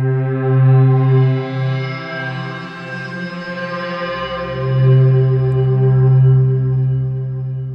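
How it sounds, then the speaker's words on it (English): Granular synth preset from Krotos Concept 2, a rich, intricate sound-design texture of sustained stacked tones with a deep low drone that swells, dips and returns, loud and alone throughout. "really rich, intricate sound design-y type of sounds like this one"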